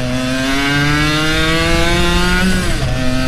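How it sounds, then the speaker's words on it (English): A motorcycle engine drones loudly and steadily up close, its pitch rising slightly before it dips and wavers as a gear shift goes through with little torque, suggesting a slipping clutch. "Almost sounds like it, kind of, like right when I shift gears, but there's no torque there."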